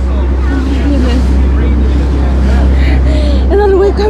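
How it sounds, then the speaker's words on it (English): Sea waves slap against a pirate boat ride off Whitby, Yorkshire, with loud wind buffeting and rushing water throughout, while excited passengers talk and exclaim over the noise. "The waves. I did not expect such waves."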